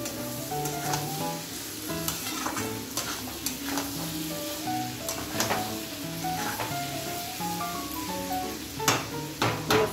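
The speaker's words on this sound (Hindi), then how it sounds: "मसाला और सब्जी अच्छे से भून जाए, इसे भूनने देते हैं अच्छे से।" Masala, ginger garlic paste and vegetables sizzle and fry steadily in a pressure cooker, a continuous close crackling hiss with occasional stirring and light scraping, no talking.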